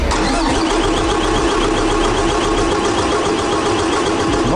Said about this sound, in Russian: Заводится хорошо, но долго. Попытка номер 2 запуска.